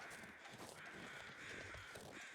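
Crows caw repeatedly in the video game The Long Dark, harsh calls of fairly steady strength carrying over a constant wind-like hiss, with no voices.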